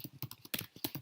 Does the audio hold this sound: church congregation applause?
no